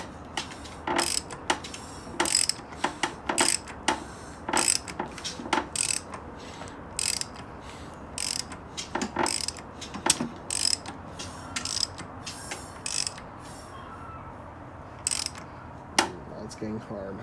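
A ratchet spinning the crankshaft of a V6 Toyota Celica engine during a timing belt install, bursts of rapid clicking pawl ticks in irregular runs, with quieter pauses and faint background noise between strokes.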